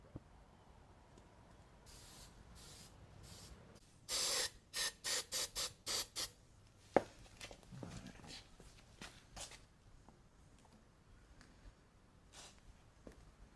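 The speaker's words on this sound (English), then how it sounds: "one of the pro tips is to actually put hairspray in this" Hairspray hisses from an aerosol can in a long burst followed by several short rhythmic sprays during repair of a 2006 Mud Buddy Surface Drive HD Mini, close, with shuffling and handling noises around it.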